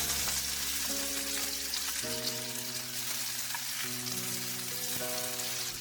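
A tofu hamburger steak frying in a pan, a steady broadband sizzle running throughout, with background music tones layered underneath.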